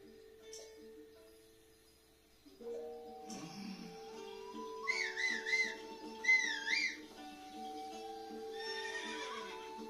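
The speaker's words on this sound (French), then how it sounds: "je prends mon cheval" Horse in The Legend of Zelda: Breath of the Wild, heard as two wavering neighs in quick succession rising over game music, moderately loud, followed by a softer whinny.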